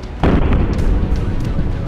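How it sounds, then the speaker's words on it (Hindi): A large explosion at a Moscow weapons factory rumbles as a loud, sustained low boom, with a sharp onset followed by continuous heavy roaring. "दोपहर के वक्त मॉस्को की उस हथियार फैक्ट्री में बहुत बड़ा विस्फोट हो गया"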